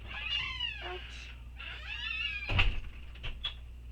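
High, wavering kitten meows come in several separate calls, close by, with a sharp knock or thump of a door or cupboard partway through.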